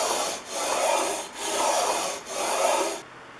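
Plane iron from a Stanley No. 60 low-angle block plane is honed on a sharpening stone in a General No. 810 guide, giving three close, steady back-and-forth rasping strokes with brief pauses between.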